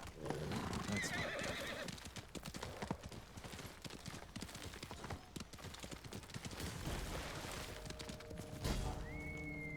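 A horse in a video game gallops with quick, continuous clip-clop hoofbeats, and a whinny rises near the end over faint background game sounds, with no one talking.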